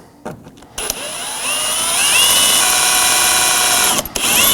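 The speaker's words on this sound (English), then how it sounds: "Now I'm going to take a 3/16 drill bit to drill the heads off of the rivets." A power drill with a 3/16 bit drilling the heads off rivets holding the front license plate bracket of a 2018–2024 Chevrolet Equinox, a loud sustained whine that rises in pitch, with a brief pause near the end.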